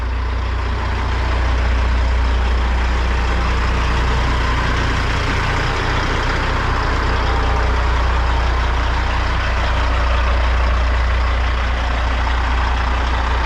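A pickup truck pulling a 39 to 40 foot Trail Star frameless dump trailer gives a loud, steady engine rumble and road roar that runs unbroken throughout, with no talk.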